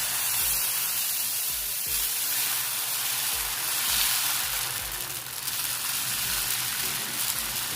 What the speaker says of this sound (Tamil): நான் இந்த மாதிரி வெங்காயத்தில் எண்ணெய் தடவி தோசைக்கல்லை உடைச்சிக்கிறேன்